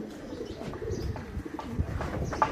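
Homing pigeons returning to their loft coo softly close by, several low murmuring calls over faint background rustle and distant voices.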